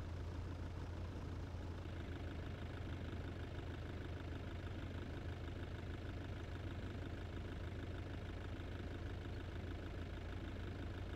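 An Audi Q7 with a 3.0L turbo engine idles in BeamNG.drive, a steady low drone that holds even and unbroken throughout, with no voices.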